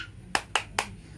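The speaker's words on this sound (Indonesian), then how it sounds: "Ayo tepuk semangat." Three sharp rhythmic claps, evenly spaced, ringing out alone in a quiet room as a motivating clap before a children's lesson.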